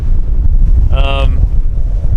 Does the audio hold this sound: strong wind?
yes